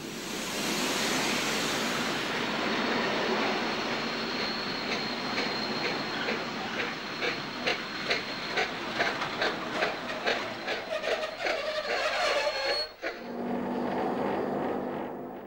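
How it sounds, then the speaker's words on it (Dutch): A train from Namur, hauled by locomotive 29, rolls into a Belgian station with a steady rumble and a rhythmic clickety-clack of wheels over rail joints, a squeal near the end, then the noise drops away. "Terwijl nog een trein uit Namen, ditmaal met de 29, binnenloopt"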